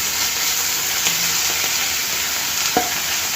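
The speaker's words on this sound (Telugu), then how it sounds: "మంట సిమ్ మీద పెట్టుకున్న తర్వాత ఒక 2-3 నిమిషాలు దీన్ని వేయించుకోవాలి" A potato and fenugreek curry sizzles steadily in a pan on a low flame, a constant hiss of frying with a few soft scrapes and taps from stirring, close and even throughout.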